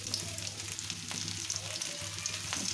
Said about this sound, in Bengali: তেল দিয়ে আমি পেঁয়াজ দিয়ে দেবো একটু পেঁয়াজ ভেজে নেবো